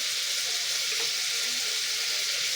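Mutton pieces frying in a pan while cooking a drumstick mutton curry with turmeric, giving a steady, even sizzling hiss that stays constant throughout with no talk.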